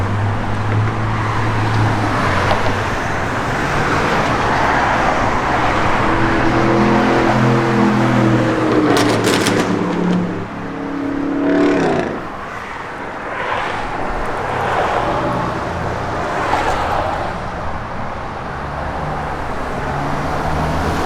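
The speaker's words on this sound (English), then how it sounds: "Truck sits good, goes down the road real nice." A 1972 Chevrolet C10 pickup truck drives along a road, steady engine and tire rumble with a passing swell midway, some wind buffeting, no talking.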